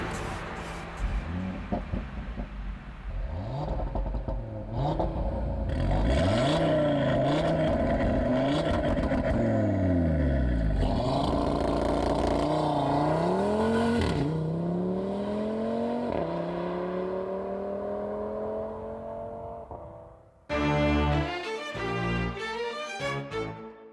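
Audi TT RS convertible accelerating hard through the gears, engine rising in pitch with repeated shift drops and loud exhaust roar, then a brief pause and a burst of revving near the end, no talk.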